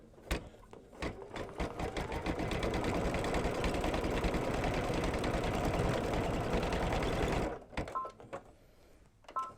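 A Babylock sewing machine stitches an in-the-hoop quilting design, running in a steady, close mechanical whir for about seven seconds before stopping, followed by a few light clicks and short beeps.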